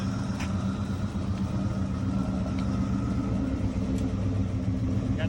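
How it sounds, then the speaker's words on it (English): An old truck's engine idles steadily after a carburetor adjustment, with its original factory air conditioning running. A continuous low rumble holds even and close for the whole stretch, with no voices. "So I was just tuning it, make sure it would run and see if the AC would work and get it idling and everything."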